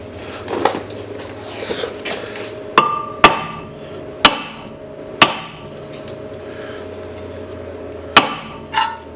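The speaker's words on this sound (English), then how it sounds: "grab a little bit of a hammer, give it a tappy tappy tap" Sharp metallic hammer strikes on a 2013 Nissan Versa front brake rotor ring out one after another, about eight blows at uneven intervals, loud and close against a faint background hum.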